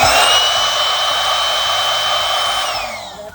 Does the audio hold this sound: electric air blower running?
yes